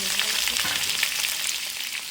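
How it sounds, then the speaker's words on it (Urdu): Potatoes fry in hot oil with mustard seeds and curry leaves for a spicy fried aloo snack, giving a steady, close sizzle with faint bubbling and no talk. "اور اسے بھی ہم تھوڑا فرائی کریں گے، تھوڑا سا اس کو براؤن کلر آنے دیں گے"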